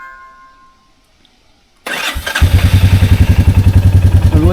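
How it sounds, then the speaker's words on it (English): A Royal Enfield Meteor 350 motorcycle cranks and fires up after a quiet pause, then settles into a loud, close, steady thumping idle. "start the engine"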